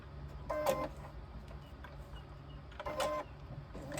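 A sewing machine stitches a crossbody bag in two short, whirring mechanical bursts, quiet and close over a low steady hum, with no one talking.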